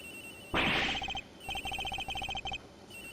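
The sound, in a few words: phone ringing, from video game Ace Attorney Investigations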